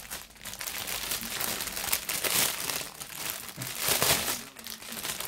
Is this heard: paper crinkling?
yes